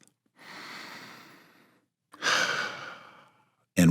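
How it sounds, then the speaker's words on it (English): Two slow, deep breaths taken close to the mic during a guided eyes-closed exercise, each a long airy inhale-exhale, the second louder, followed by a sharp sound at the end. "Take one more deep breath."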